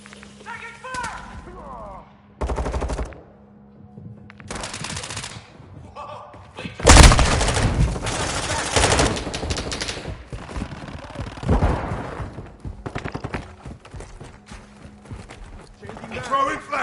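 Gunfire in Modern Warfare II: rapid automatic bursts and single shots at varying distances, with a loud close burst in the middle and in-game voice callouts over the shooting.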